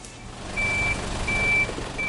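A water truck backs up at an earthquake rescue dig in Haiti, sounding three steady, evenly spaced reversing beeps over a low engine rumble.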